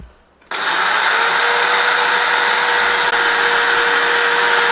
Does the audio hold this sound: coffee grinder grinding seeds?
yes